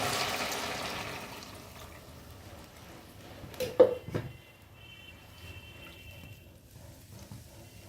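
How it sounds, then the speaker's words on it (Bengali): Water from rinsing a mixer jar poured into masala frying in oil, a short splashing pour around the middle of the clip against a faint kitchen background, otherwise quiet. "এর মধ্যে দিয়ে দেবো আমি এখন মিক্সির ধোয়া জল"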